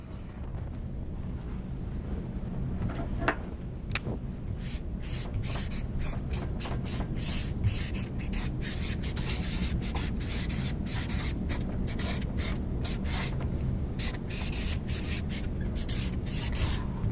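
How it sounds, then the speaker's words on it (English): A marker writes a word on a board in a room, producing repeated short squeaky strokes and scratches over a steady background hum. "But I'm going to write it down for us."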